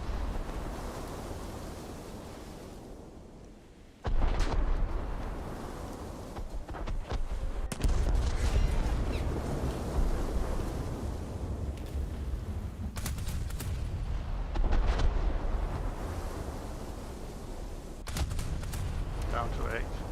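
Naval gunfire from the cruiser Baltimore firing stock rounds in a naval battle game: heavy booming salvos over steady sea and engine rumble, with someone talking through much of it.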